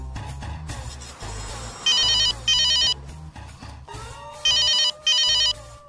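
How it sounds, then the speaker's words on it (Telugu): A mobile phone ringtone sounds twice, each a bright pair of loud electronic bursts over a melodic tune, the ringing standing clearly alone with no talk. "మా బాబేంటి ఇప్పుడు ఫోన్ చేస్తున్నాడు?"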